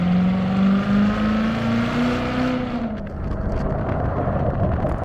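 A C7 Corvette Z06 accelerates hard, its engine note climbing steadily and loudly up close, then giving way to a rougher, broader roar as it eases off.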